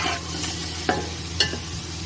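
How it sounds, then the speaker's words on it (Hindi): Boiled chickpeas are stir-fried in masala in a pan, with soft scraping stirs and a light sizzle, a few distinct spoon strokes close up and no talking. "ये देखें चनों की बुनाई हो रही है"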